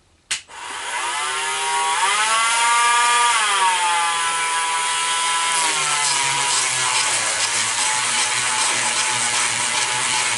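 A Ryobi variable-speed flex shaft rotary tool with a worn sanding disc grinds the inside of a scrap copper ring, starting with a click and then a loud, steady high whine whose pitch dips and recovers as it bites, with no talk.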